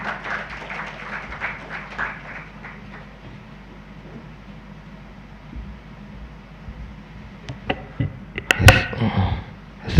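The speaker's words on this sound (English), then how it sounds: "Please let's give him another round of applause" Guests at a Ghanaian finance society's annual forecast dinner and charter ceremony clap in scattered bursts, fading early, then swelling again near the end over low room rumble.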